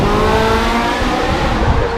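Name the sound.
Lamborghini Huracan Spider launching from start line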